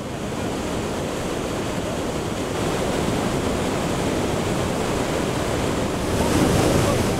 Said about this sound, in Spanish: una de las aproximadamente 200 cataratas que tiene esta provincia.